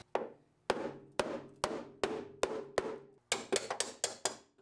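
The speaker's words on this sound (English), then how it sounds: "We got our chisel in there, pry it away a little bit, break all those welds loose." A chisel is hammered into thin metal welds on a 2015 GMC Terrain Denali frame rail, giving a dozen sharp ringing metallic strikes, evenly spaced at first and then in a quicker burst, close and loud.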